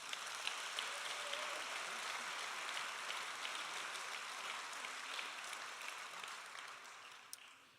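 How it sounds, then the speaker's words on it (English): A graduation ceremony audience in a hall applauding a wind ensemble, a broad steady wash of many hands clapping at a distance, fairly faint, tapering slightly at the end. "Please give them a warm round of applause"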